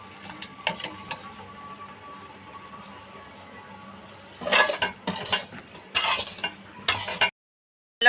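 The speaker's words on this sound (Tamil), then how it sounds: "நல்லா கொதிக்குது பாருங்கள்." Sheer khurma with vermicelli simmers in a pot under a soft background hiss, then a spoon scrapes and clinks against the metal in several loud bursts of stirring before the sound cuts off.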